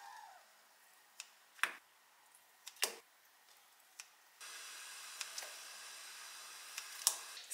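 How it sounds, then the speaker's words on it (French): Kitchen scissors snip fresh gluten-free pasta above a pot of salted boiling water, giving a few sharp, separate clicks and cuts, quiet and close, before a steady hiss of bubbling water sets in. "je vais couper mes pâtes"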